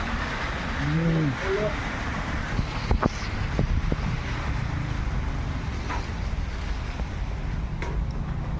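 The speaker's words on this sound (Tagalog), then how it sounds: "sobrang lakas ng hangin dito" Strong typhoon wind roars and buffets the microphone in a constant rushing noise, with a few brief knocks and a faint voice early on.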